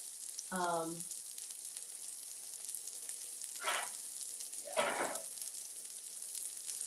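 Onions sizzle steadily in meat juices in a hot pan, a constant close hiss with a couple of brief louder crackling bursts and a short voice-like tone near the start.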